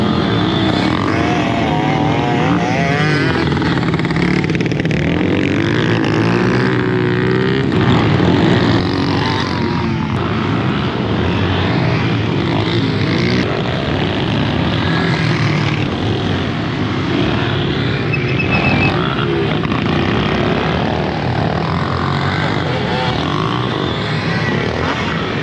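Motorcycles race around a hot, dusty dirt track, their engines forming a loud, continuous roar that rises and falls as bikes pass close by throughout.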